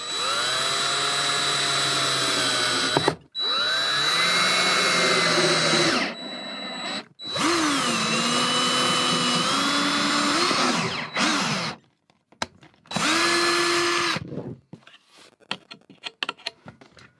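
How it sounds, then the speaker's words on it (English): A power drill drives screws to fix a propane gas detector mounting plate to a board inside an RV, giving several loud whirring bursts that rise and fall in pitch, separated by brief pauses and small handling clicks. "we're just gonna put 2 screws in here and here and attach it to that board just like that"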